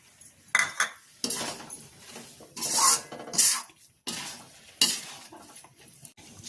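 A metal spoon stirs and scrapes through carrot halwa with cardamom in a pan, with irregular clinks and scrapes against the metal over a faint sizzle, close by and with no talk.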